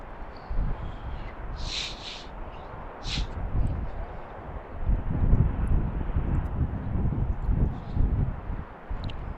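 A Southwest airliner departing runway 15 right at BWI in Baltimore gives a steady, broad jet roar that swells toward the middle and holds, with a couple of brief high chirps early on and no talk.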